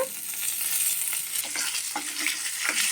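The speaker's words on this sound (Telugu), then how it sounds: "ఇదిగోండి ఇలాగా పోపులు ఇలా వేపుకోవాలి చిన్న ఫ్లేమ్లో" Dried red chillies and cumin seeds fry in oil over a low flame for a tempering, giving a steady close sizzle with scattered crackles and light stirring scrapes throughout, no voices.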